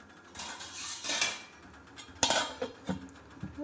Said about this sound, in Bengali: এটাকে এবার হালকা ঢেকে দেবো